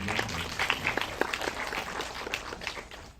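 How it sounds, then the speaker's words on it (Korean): An audience at a Korean film screening Q&A for In Our Prime claps steadily, a dense patter of many hands at moderate volume lasting throughout, with no voices over it. "박수 부탁드립니다."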